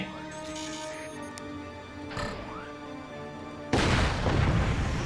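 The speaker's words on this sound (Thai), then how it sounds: "มา มาแล้วครับป้อมเลเซอร์ของเราครับ นี่ฮะ ยิงนี่ก่อนเลย" Laser fort firing in the strategy video game Forts: tonal game sounds and a sweeping whine give way to a sudden loud, sustained blast of noisy energy for the last second or so.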